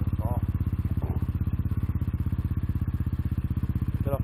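A motorcycle engine idling with a rapid, steady putter, close and constant, with no talking.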